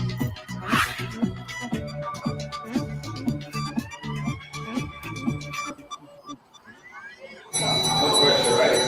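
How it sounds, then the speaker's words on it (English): A bell rings to signal a new order in a Zume Pizza kitchen where robots prep and cook, its bright tones repeating over mechanical clatter and background talk, followed by a louder burst of kitchen noise. "So when we hear the sound of the bell"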